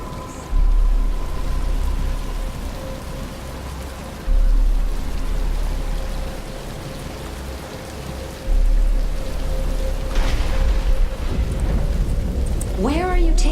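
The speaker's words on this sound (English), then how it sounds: "But it's starting to rain." Rain falls steadily in the video game Batman Arkham Asylum, a continuous hiss of droplets on surfaces with low rumbling swells and a faint tonal hum beneath.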